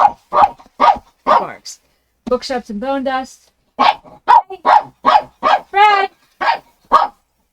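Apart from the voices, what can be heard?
dog barking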